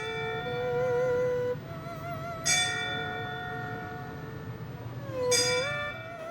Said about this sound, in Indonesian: Suara lonceng memecah keheningan, menggema di seantero penjuru kota